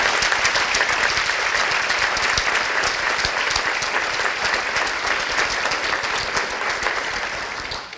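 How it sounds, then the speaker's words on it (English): An audience at a county state-of-the-county address applauds veterans' hall of fame inductees with sustained, even applause from a large crowd lasting about eight seconds and fading slightly at the end. "Let's give them a round of applause."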